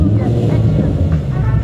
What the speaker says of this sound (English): This is an AP Performance exhaust. Listen to it.